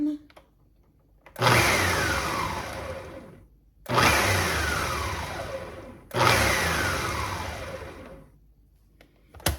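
A kitchen blender grinds dry seasoning in three loud bursts of about two and a half seconds each, separated by short pauses, with a brief whir starting again at the end.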